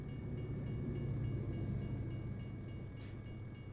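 Passing train in Euro Truck Simulator 2: a steady, dense rumble of rolling rail wagons with a faint rhythmic clatter, holding at an even loudness throughout with no voices.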